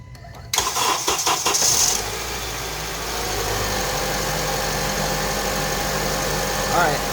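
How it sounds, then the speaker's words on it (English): A 2009 Honda CR-V engine cranks and fires close by, then settles into a steady, even idle that keeps running without a break. "now we're gonna run the engine for 5 minutes"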